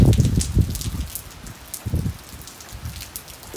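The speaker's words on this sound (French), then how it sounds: "sacré orage, hein. Et puis le rafale de vent" A night thunderstorm: heavy rain hisses steadily while low, rumbling gusts of wind surge and fade, loud and close.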